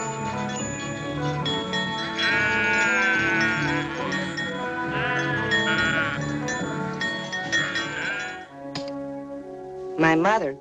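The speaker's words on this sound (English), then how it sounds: "And he sent me to herd the sheep home." Sheep bleating while being herded home in a classic Western film set among the Navajo, several wavering bleats overlapping one another under a continuous musical score, with a faint tinkle of bells.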